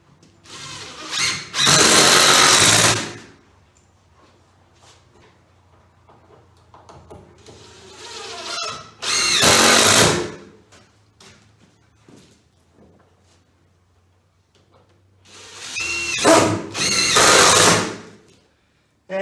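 A power drill drives screws into wood sheeting on a granary build, giving three loud bursts of a couple of seconds each that rise and stop, with quiet gaps between them.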